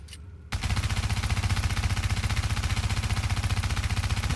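Rapid automatic gunfire empties a magazine in The Division video game, a dense, evenly spaced stream of loud shots that begins abruptly after a brief quiet moment and continues without a break.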